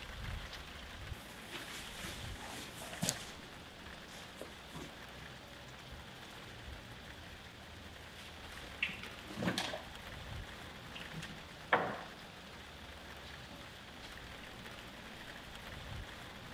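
Outdoor rain falling as a steady soft patter, with a few louder knocks and taps scattered through it.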